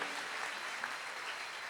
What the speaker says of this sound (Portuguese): Dê um forte aplauso a Jesus Cristo nessa noite.